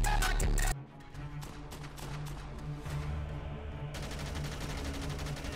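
A light machine gun firing in the Dead Rising 2 video game: a loud burst, then a long run of rapid, fairly quiet shots repeating in a steady rhythm, with no talk.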